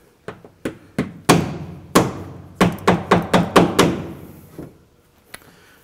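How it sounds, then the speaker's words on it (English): A hammer taps a spring clip onto Kenmore washer outer tubs, about a dozen sharp, close metallic knocks in an uneven rhythm, some clustered quickly, then fading to a last light tap. "we'll take one of those spring clips and we'll tap it in place with a hammer"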